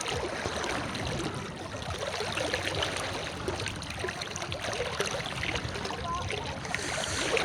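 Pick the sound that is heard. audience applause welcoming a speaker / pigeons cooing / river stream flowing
river stream flowing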